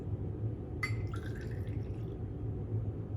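Rye whiskey is poured into a metal jigger to the brim while mixing a Boulevardier cocktail, a brief liquid trickle and drip that starts suddenly and fades after a second or two over a steady low room hum.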